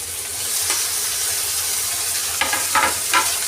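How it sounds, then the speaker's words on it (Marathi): Cashew pieces, peanuts and tomatoes sizzle in hot oil for masala rice, a steady frying hiss broken near the end by a few scraping stirs of a spoon in the pan. "आणि याला छान असं परतून घ्यायचं आहे"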